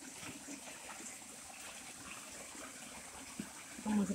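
Water flows and gushes steadily at a natural spring, a soft continuous wash heard alone at low level, with a slightly louder surge near the end.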